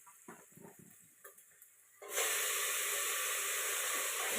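Goat meat frying in hot oil: after a couple of seconds of quiet kitchen clatter, a loud, dense sizzle bursts in and keeps hissing and spattering steadily to the end.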